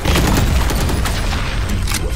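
Valorant match with loud, continuous booming and rapid gunfire crackle in the game, a dense wall of blasts and shots filling the whole moment without clear gaps.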